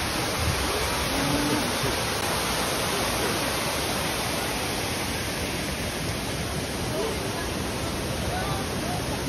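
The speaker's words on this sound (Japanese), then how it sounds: "白糸の滝" Shiraito waterfall in Nagano roaring as a dense, steady rush of falling water, loud and unbroken throughout, with no clear voices standing out above it.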